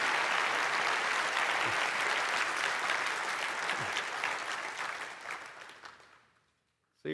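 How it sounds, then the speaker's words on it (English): Sustained audience applause after a tech conference talk, loud and dense at first, then thinning and fading to near silence at the end. "Why don't we just do one more round of applause for the Giga Chad himself, Michael Saylor."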